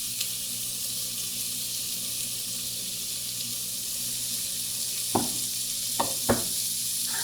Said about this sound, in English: we're going to take some bacon and we're going to start rendering that guy